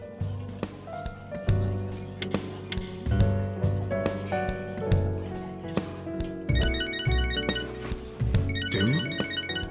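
A phone rings in the video game Catherine: Full Body, a chirping electronic ringtone in the latter part of the clip over layered game music with plucked and percussive notes.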